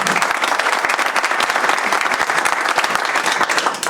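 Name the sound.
audience applause for ministers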